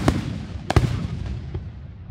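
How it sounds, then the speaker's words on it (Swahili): Military bombs are detonated in Longido district, with one sharp distant blast followed by a louder double boom and a fading rolling rumble. "kama unavyoona mlipuko"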